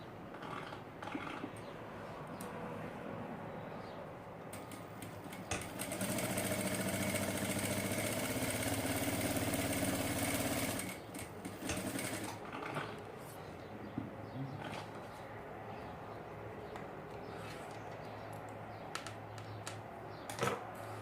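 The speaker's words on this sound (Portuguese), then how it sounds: "Nós vamos fazer uma costurinha pregando o zíper." Sewing machine stitching a zipper onto a double eyeglass case, a steady mechanical whir that swells louder for several seconds mid-stretch, with quieter machine hum and handling sounds around it.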